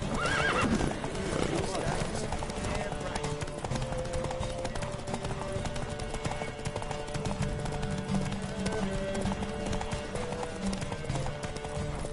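Video game horses gallop in a race with steady clip-clopping hooves and occasional whinnies, mixed with voices and a busy background soundtrack throughout.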